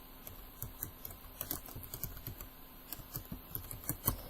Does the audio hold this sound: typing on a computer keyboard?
yes